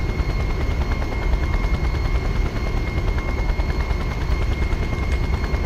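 Helicopter in the video game Just Cause flying, a loud continuous rotor thump and turbine whine with a rapid pulsing beat, steady and close throughout with no speech.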